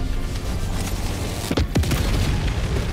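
A 500kg bomb detonates in the shooter game Helldivers 2, a loud, deep boom with sharp bursts under steady low battle rumble.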